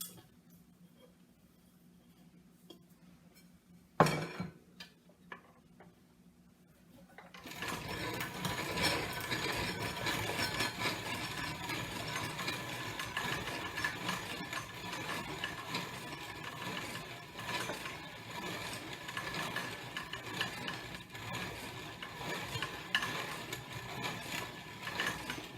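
Flour corn ground into cornmeal on a second, tighter pass through a hand grain mill, a steady rasping, grinding churn that starts after a couple of clicks and runs continuously.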